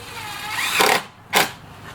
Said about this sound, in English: I'm going to screw the riser board to the back of the treads